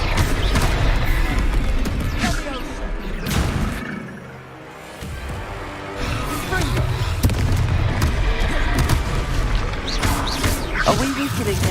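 Confringo spell explosions in Hogwarts Legacy game combat: dense, loud booms and crashing impacts with rumbling bursts, mixed with game sounds and a voice speaking over the battle.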